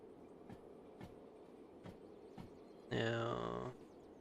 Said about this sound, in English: that train's probably gonna be getting on for that hill here soon.